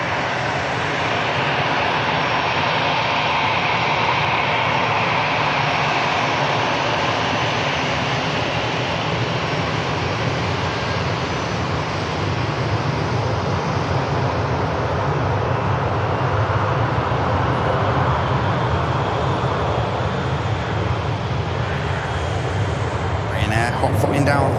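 A Ryanair jet accelerates down runway 23 left at Manchester Airport on takeoff, a steady, loud, continuous engine roar that stays broad and constant throughout, with a voice talking over it.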